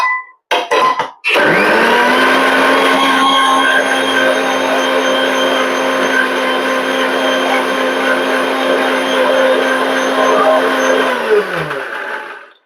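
A kitchen blender whirs loudly and steadily for about eleven seconds, churning buttermilk with gram flour for kadhi, after a few short pulses at the start and before winding down at the end.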